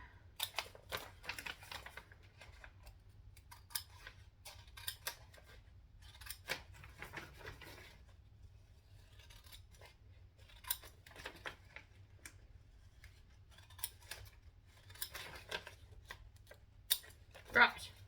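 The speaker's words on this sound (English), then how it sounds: "So these are my paper cutting scissors" Paper-cutting scissors slicing through a paper sewing pattern for a handbag, close and quiet, with clusters of crisp snipping strokes separated by pauses.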